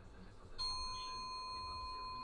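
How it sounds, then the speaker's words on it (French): A bright metallic bronze bell on a fusee clock with a verge escapement rings once with a sharp strike, then its clear tone sustains and slowly decays over a low background rumble. "elle a une belle cloche en airain"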